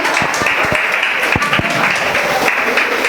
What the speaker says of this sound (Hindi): एक बार इस बच्चे के लिए जोरदार तालियां।